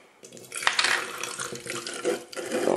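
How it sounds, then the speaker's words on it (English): Vinegar (acetic acid) poured into a container for an elephant toothpaste reaction, a steady splashing liquid stream that rises and swells over a few seconds, close by with no talk. "And so, first add your vinegar."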